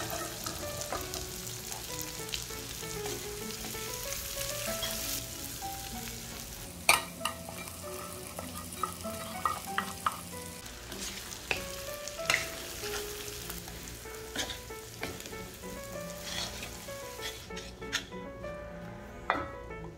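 Kidney beans (cowpeas) stirred and fried in a pan while being tempered, a soft steady sizzle broken by repeated scraping and clinking stirs of the utensil against the pan.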